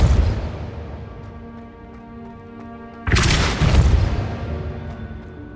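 Depulso spell cast in Hogwarts Legacy, a sudden forceful boom that bursts out of a quiet, droning game ambience, followed by a rumbling tail and a second thump.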